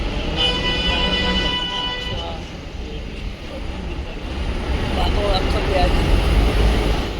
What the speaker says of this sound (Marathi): आत्ताशी एक गाडी आली बघा